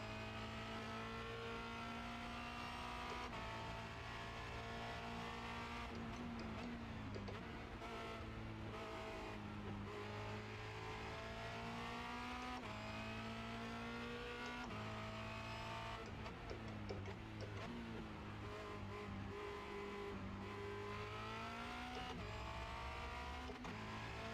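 A Formula Renault 2.0 race car engine under throttle around Circuit de Barcelona-Catalunya, a loud, continuous high-pitched whine rising and falling with gear changes and repeated revving, heard from on board with no voices.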